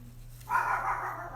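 Dogs barking indoors during a festive card and gift box crafting session, a single short, muffled burst of barking that starts abruptly midway and fades, over a low steady hum.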